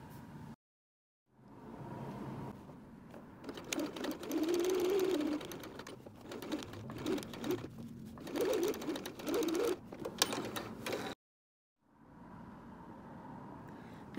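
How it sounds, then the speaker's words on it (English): A sewing machine stitches a channel into a fabric mask in several loud, whirring runs separated by brief pauses, close and without speech. "I'm gonna sew a channel 2 inches on either side of the center seam"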